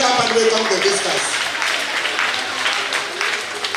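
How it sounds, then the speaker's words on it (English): Schoolchildren at a primary school clap together to welcome visitors, a lively burst of applause that starts strong and gradually thins out over a few seconds. "Children, can we clap and welcome the visitors?"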